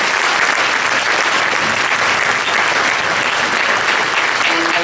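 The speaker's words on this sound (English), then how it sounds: "so if you could give them a round of applause, please" Audience applause at a school winter music concert, a dense, steady wash of clapping from a large crowd that fills the whole stretch at full loudness with no voices on top.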